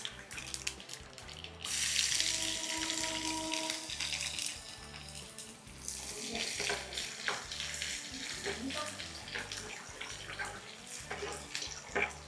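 Dried red chilies and garlic cloves sizzling in hot oil in a pan, a steady close crackling hiss that swells for a while then continues with softer bubbling and stirring.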